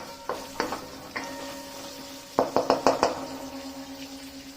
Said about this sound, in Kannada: ಐ ಥಿಂಕ್ ಒಂದು ಟೆನ್ ಸೆಕೆಂಡ್ಸಿಗೆ ಫ್ರೈ ಆದರೆ ಸಾಕು